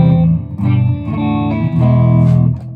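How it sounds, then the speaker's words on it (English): A loud, distorted Epiphone Les Paul electric guitar plays heavy sustained chords and riffs, close and dense, with a brief break between phrases. "let me throw on some distortion and we can rock out a little bit."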